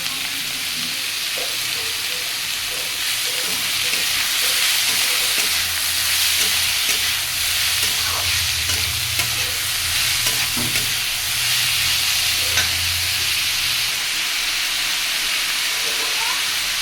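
Fish head ghonto stirred in a hot pan, a steady loud sizzle and frying hiss with scraping stirs throughout, close up.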